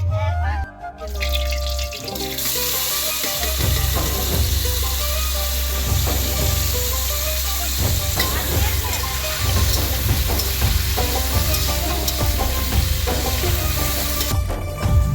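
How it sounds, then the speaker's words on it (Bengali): Potatoes fry in a pan with continuous sizzling and hissing, fairly loud and close, alongside clattering kitchen noise and a faint voice at times. "আলু ভাজাগুলো হয়ে গেছে, তুলে নেব।"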